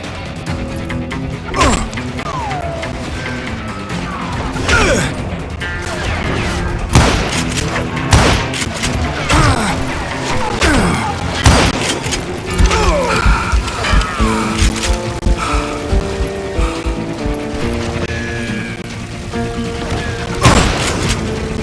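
Explosions and gunfire from the Western shooter Call of Juarez Gunslinger as Henry Plummer throws dynamite, with repeated loud booms and crashes over a busy musical score for about twenty seconds.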